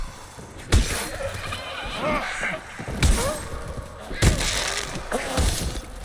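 Heavy mace blows landing on zombies in Dead Island 2, four sharp crunching impacts spread unevenly over a noisy fight, each with a thudding low end, mixed with grunts and game sounds.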